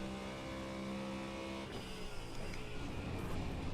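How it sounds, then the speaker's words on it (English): A Ford Mustang GT3 V8 engine in the iRacing video game drones steadily with rising harmonics, then shifts gear and revs again, loud and continuous throughout. "I'm in the Ford Mustang GT3, and the first thing you'll notice is that this car sounds awesome"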